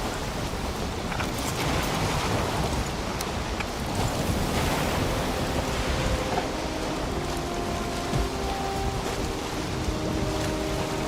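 Steady wash of ocean waves and surf around a sailing boat in the game Valheim, broad and continuous with a faint rain-like hiss and some tonal hum underneath, no voices.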